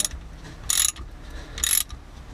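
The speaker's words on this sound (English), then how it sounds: "reinstall the tensioner" A chain tensioner being reinstalled on a Sea-Doo 4-TEC engine gives two distinct metallic ratcheting bursts about a second apart, close and fairly loud against a quiet workshop background.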